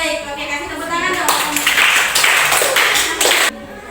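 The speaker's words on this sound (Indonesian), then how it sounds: "Oke, kasih tepuk tangan dong." Members of a group in a coding and artificial intelligence training session clap their hands together, a fairly close burst of mixed clapping that swells and stops abruptly, with room noise around it.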